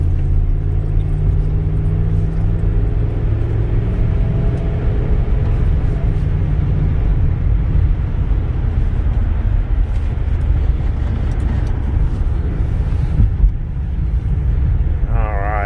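A 1992 Ford F-150's 302 5.0 V8 rumbles steadily while driving, a deep continuous low-end drone heard from inside the cab for the whole stretch.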